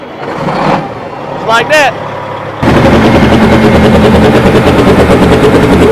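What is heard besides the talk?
cabover truck engine cranking, starting and revving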